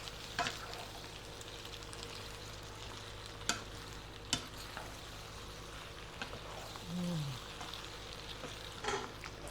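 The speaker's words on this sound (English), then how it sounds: "I'm gonna stir in the cup of mozzarella" Mozzarella is stirred into creamy pasta in a pan, making a soft continuous wet sizzle with scattered gentle scraping taps, close and fairly quiet, with no talking.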